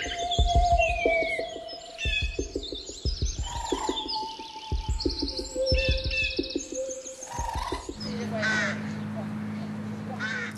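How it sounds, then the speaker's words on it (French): Rooks from a colony of about a thousand pairs nesting in plane and poplar trees in Clermont-Ferrand, calling in loud overlapping caws that repeat in steady bursts and fill the whole stretch. "les platanes et les peupliers clermontois abritent près de 1000 couples de corbeaux freux"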